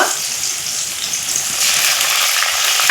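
Ground spice paste hitting onions and tomatoes already fried red in a hot pan, a loud steady sizzle that swells into a stronger hiss partway through, with no voices.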